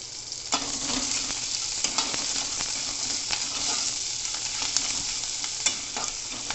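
Whole green chillies frying over a high gas flame for chilli paneer, with steady loud sizzling and crackling while a spoon stirs and scrapes the pan in sharp intermittent clicks.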